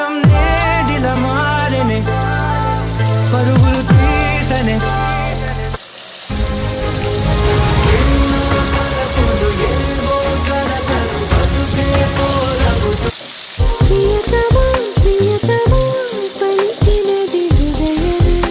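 Mutton hits a hot pan and is stirred over high flame, giving a steady broadband sizzle that runs throughout beneath loud, prominent background music.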